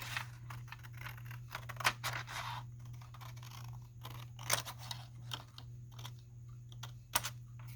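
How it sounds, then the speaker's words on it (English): Scissors snip through upcycled junk mail paper while window pockets are made for washi tape scraps, a quiet, close series of irregular crisp cuts and paper rustles over a steady low hum. "Don't cut the flap off, Tara."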